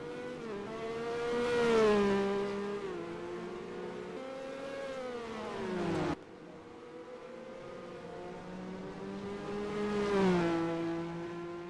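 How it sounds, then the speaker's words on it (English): In the NASCAR Racing 2003 video game, Formula 1 race cars run behind a pace car. High engine whines rise and fall as cars sweep past in two close passes, one after the other, with no voices. "So we have a pace car racing Formula 1 cars."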